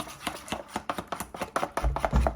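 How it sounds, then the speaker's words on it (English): Jerk sauce being worked into butter in a bowl, a quick series of close, rhythmic tapping and mashing strokes over a couple of seconds, ending in a few heavier thumps. "So that is your jerk sauce being mixed into the butter."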